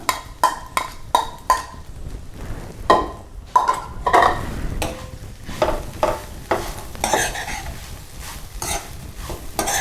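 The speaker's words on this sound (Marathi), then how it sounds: "आपण तो थोडा परतून घेऊया यातलं जे मॉइश्चर आहे ते कमी झालं पाहिजे" Grated fresh coconut sautéed and stirred in a pan, a rhythmic run of loud, close scraping strokes of a spoon against the pan over a soft frying hiss, with no speech.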